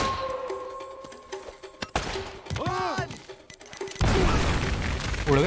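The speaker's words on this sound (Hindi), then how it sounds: "ओही ग्रेनेड फेंकता हूँ मैं" A grenade blast in the video game Uncharted: Drake's Fortune hits as a loud, broad burst near the end, after scattered game sounds, thumps and a sweeping tone.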